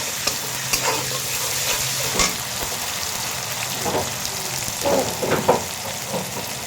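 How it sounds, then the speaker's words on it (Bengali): Garlic paste and ginger paste fry in a pan for a hilsa fish head and pumpkin curry, producing a dense, continuous close-up sizzle broken by repeated spatula stirs and scrapes. "একটু রসুন বাটা দিয়ে দিলাম, একটু আদা পেস্ট দিয়ে দিলাম"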